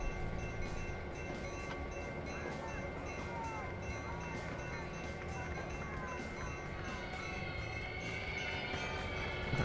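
Train brakes screeching in a train simulator video game, a steady rumbling rail roar with thin high squeals running through it, continuous and moderately loud, with a voice talking over it.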